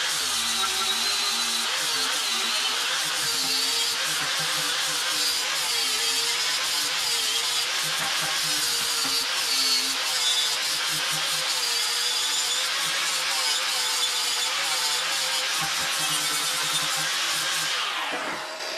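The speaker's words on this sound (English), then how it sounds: "I'm not grinding weld away, which I technically am, but I'm really just smoothing out the weld" An angle grinder smooths and cleans up weld seams on a metal ski and snowboard rail, giving a steady, loud, continuous whine with a harsh gritty edge that runs almost unbroken before easing off at the very end.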